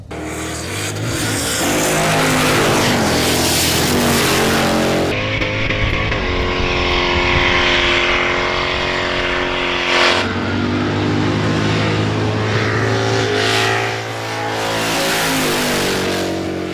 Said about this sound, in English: they'll be side by side, racing while doing a burnout.